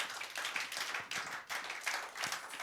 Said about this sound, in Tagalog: Bigyan natin ng malakas na palakpak ang ating Diyos na buhay.